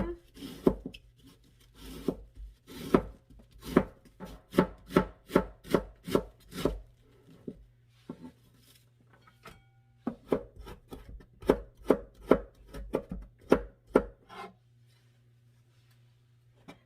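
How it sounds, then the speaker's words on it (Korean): Rapid, steady knife chops finely shredding cabbage on a cutting board, in bursts of quick strokes with short pauses, close and crisp over a faint low hum. "아주 곱게 썰어 줍니다"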